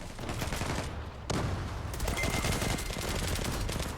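Rapid bursts of MPT-76 rifle fire in the Zula shooter game crackle loudly and close, nearly continuous with a brief pause, and no voices heard.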